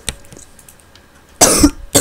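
A man coughs close to the microphone: a short cough at the start, a longer harsh burst of several coughs later, and another cough cut off at the end, with near-silence between them.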